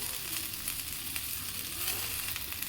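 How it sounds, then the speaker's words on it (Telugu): Ivy gourd (dondakaya) fry sizzling in a pan, an even, dense crackle and hiss that runs throughout, close but fairly soft, with no talking. "ఇంకొక 2 నిమిషాలు అలా ఫ్రై చేసేసుకుంటే ఇది ఉడికిపోతుంది"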